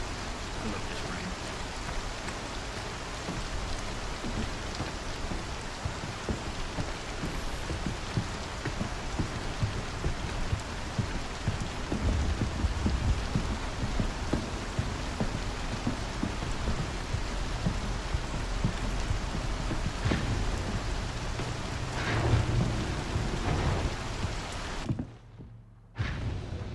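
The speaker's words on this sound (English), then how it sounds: "I love this rain." Steady rain in the space game Star Citizen, a dense continuous hiss of falling drops on surfaces that runs throughout before cutting out briefly near the end.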